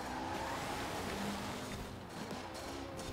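A Mitsubishi Lancer Evolution IX in the Forza Horizon 4 racing game drives with a steady, droning engine note. The sound is loud and constant for about three seconds, with no talk over it.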